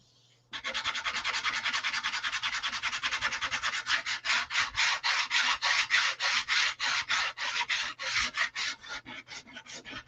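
Steady rhythmic rasping of sandpaper rubbed back and forth over a painted wooden dough bowl's edge to distress the finish, close and fairly loud, the strokes growing more distinct and spaced as it continues, with no talking.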